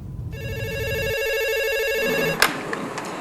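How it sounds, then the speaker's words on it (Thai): A desk telephone rings in a provincial hotline call centre for the southern border provinces of Thailand, a steady electronic ring held for about two seconds and cut off by a click, with faint room noise behind. "เสียงโทรศัพท์ในห้องสายด่วนอุ่นใจ 1880 ของศูนย์อำนวยการบริหารจังหวัดชายแดนภาคใต้ ที่ดังต่อเนื่องตลอดทั้งวัน"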